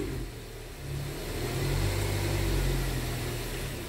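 Engine of a Nissan Livina revved with the throttle, a close, steady mid-pitched drone that swells and holds higher for a few seconds with no talking.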